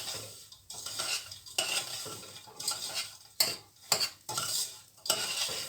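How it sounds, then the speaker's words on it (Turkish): Semolina halva is stirred in a pan with a metal spoon, producing repeated close scraping strokes and light clanks against the pan, with a soft sizzle underneath and no voices. "Şimdi karıştırıyorum altını yakmadan. İyice harmanlıyorum."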